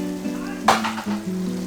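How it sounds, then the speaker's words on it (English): Butter is added to simmering chole masala in a pan. There is a brief, sharp burst of sizzle over a low, steady hum, heard up close. "Now we will be adding some butter"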